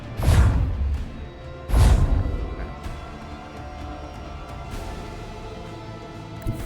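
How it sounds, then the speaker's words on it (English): Macro cannons firing in the Warhammer 40K: Rogue Trader video game, two heavy booming blasts in quick succession followed by fainter impacts and lingering rumble. "Macro cannons, open fire!"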